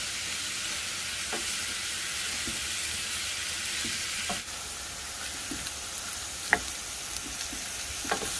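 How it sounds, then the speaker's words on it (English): Chopped onions sauté in a hot pan for charro beans, giving a steady, close sizzle with a few soft stirring clicks scattered through it. "saute until the onions are translucent"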